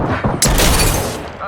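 Gunfire in the video game Apex: a loud burst of rapid shots that opens with a sharp boom and decays into a dense, rumbling volley, up close and forceful.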